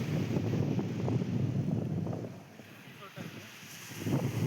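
Sea waves roll in at Pentha beach in Kendrapara: a continuous broadband wash of surf that swells and eases, heavily mixed with wind buffeting the microphone, dipping briefly in the middle before building again.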